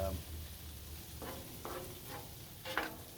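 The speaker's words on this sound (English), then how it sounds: "I'm just basically browning the beef" Ground beef browns on a griddle with a steady low sizzle, broken by a few scraping stir strokes of a spatula at close range.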